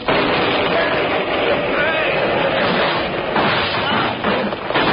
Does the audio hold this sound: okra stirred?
no